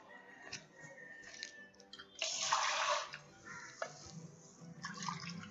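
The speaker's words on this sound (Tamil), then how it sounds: "இந்த மிக்ஸியே அலம்பி தண்ணி விடுறேன்." In a home kitchen, water splashes and pours as a mixer jar is rinsed, with a louder gush in the middle and softer trickles and clinks around it.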